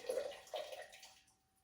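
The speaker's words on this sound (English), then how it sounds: "Pour that water out." Hot water poured out of a glass canning jar into a sink, a short gurgling splash that trails off and fades within about a second, close and fairly soft.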